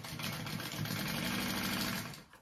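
A sewing machine basting down a pocket on a fold-and-zip petite backpack, running in a steady, continuous mechanical whir close to the mic.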